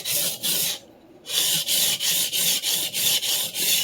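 A vintage Clyde Cutlery chef knife is sharpened on a diamond plate, loud, close rasping strokes in a steady back-and-forth rhythm, about eight passes with one brief pause.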